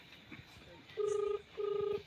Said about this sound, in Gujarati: જલ્દી ફોન કરીને બોલાવો.